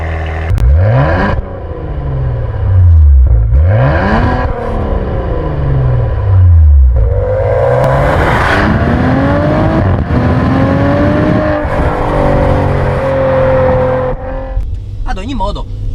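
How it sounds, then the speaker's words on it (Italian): A Maserati Levante S with a 3.0-litre V6 rated at 430 horsepower revs on the road in repeated loud rising and falling sweeps, then settles into a steadier climbing drone. A voice talks over the engine throughout. "perché suona davvero bene questa Levante S,"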